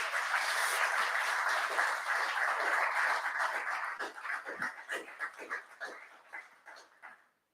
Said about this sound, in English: let's give the sponsors a big round of applause